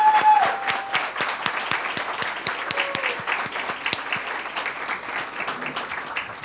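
A Washington, D.C. audience applauds steadily after a call to honor the people behind a Samsung Solve for Tomorrow program, dense clapping with sharp individual claps, loud at first and then easing slightly.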